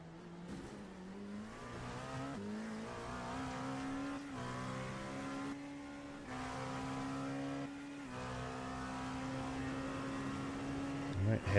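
Sports car engine in a sim racing game at Virginia International Raceway, sustained high revs with several gear shifts and rising pitch through a fast corner, loud and steady, with a voice talking over it.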